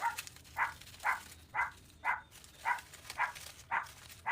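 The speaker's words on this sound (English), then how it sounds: "Sorry about the dog barking" A dog barks from a distance, about nine evenly spaced barks at a steady rhythm, faint and slightly muffled, with no other sounds.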